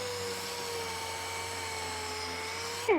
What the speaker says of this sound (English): I'll do a sander. Smooth that up a bit.